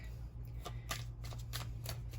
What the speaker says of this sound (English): Let me shuffle up these tarot cards really quick.